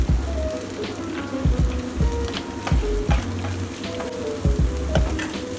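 Onion fries in a pan for veg momos, with a steady close sizzle broken by regular stirring scrapes and knocks of a spoon against the pan.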